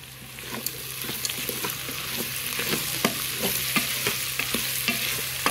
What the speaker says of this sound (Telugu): వేగిపోయినాయండి ముక్కలన్నీ